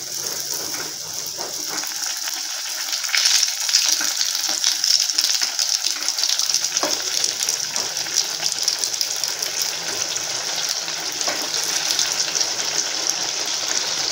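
Wheat flour appam sizzling in a pan after being flipped, a steady close crackle and hiss that runs on without a break and with no talking.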